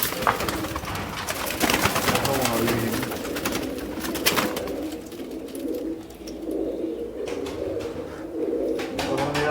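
Domestic pigeons in a fancier's loft coo repeatedly in low, throaty, rolling phrases close by, with occasional wing flutters and other bird sounds mixed in.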